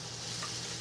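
Garlic and jalapenos being stirred in a pan for peach bourbon baked beans, a steady close sizzle with soft scraping running the whole short moment.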